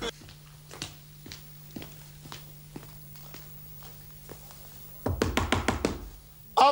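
Knocking on a door in a comedy sketch: sparse, light single taps at irregular intervals, then a sudden loud cluster of rapid, close knocks near the end.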